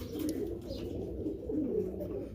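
Domed pigeons coo in low, soft, repeated rolling phrases close by, a pair kept with their two chicks beneath them. The cooing runs continuously with little else around it.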